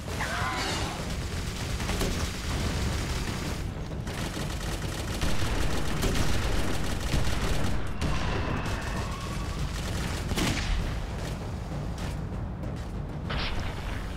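Dense, continuous gunfire and booming blasts from the video game Clive Barker's Jericho, with rapid bursts and explosive hits layered over a loud, churning battle din.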